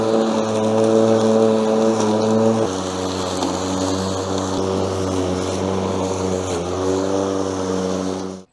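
21-inch battery lawn mower cutting grass, a steady close motor hum with droning tones that dip in pitch a few times before cutting off at the end.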